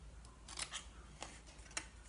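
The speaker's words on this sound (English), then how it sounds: "a nice sharp pair of scissors works just as well" Quiet, crisp snips of scissors cutting paper, a few separate cuts in quick succession.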